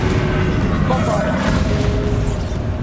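Bombarda blasting spell explosion in the Hogwarts Legacy video game, a loud sustained rumbling roar of blast noise filling the whole moment, with a voice faintly mixed in.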